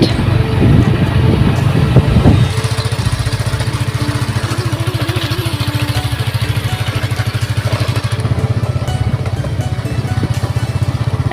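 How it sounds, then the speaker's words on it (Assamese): A motorbike being ridden along a hill road, its engine giving a steady, close, loud rhythmic chug throughout, with a brief rougher burst at the start and no talking. "এজন মিষ্টাৰে বাইক চলাই আছে"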